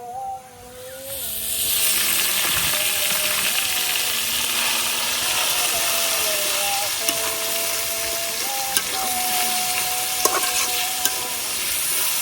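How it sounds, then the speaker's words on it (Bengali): Red amaranth greens stir-frying with onion and garlic in oil in a kadai, a loud steady hissing sizzle that swells after the first second, with occasional spoon clinks, close up with no talk. "পেঁয়াজ রসুনটা ভাজা হয়ে গেছে, এখন আমি শাকটা দিয়ে দেব।"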